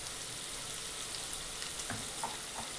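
Garlic and green chili sauté in a pan for a quick red pumpkin bhaji, making a quiet, even sizzle that crackles steadily throughout, with a few faint stirring clicks.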